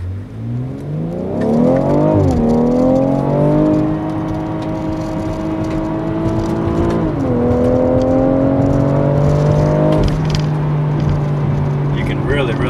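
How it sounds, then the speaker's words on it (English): A 2018 BMW X3 M40i on a test drive, its engine loud and close as it revs up through the gears, with repeated rising pitch sweeps and shift drops over steady road roar, and a voice talking faintly underneath. "Next, we're going to take the new X3 out for a test drive and see how it handles."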